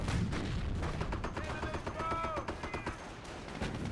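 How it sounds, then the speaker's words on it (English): Mortar shells firing and landing in a World War II strategy game, heavy thuds and booms amid scattered gunfire and clattering battle noise, with brief unit voices in the mix. "Mortar did finish it off there."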